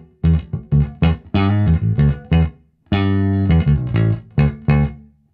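A Fender Custom Shop 1959 Precision Bass with an ash body and one-piece maple neck is played hard. Punchy, gritty notes are cut short by the fretting hand in a choppy rhythm of close, loud hits.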